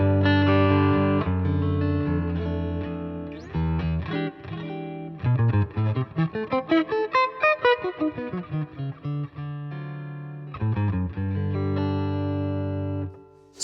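A clean electric guitar on the neck pickup, with a Boss V-B2W vibrato pedal bypassed, plays warm, round notes: a sustained chord, then a run of quick single notes, ending on another ringing chord.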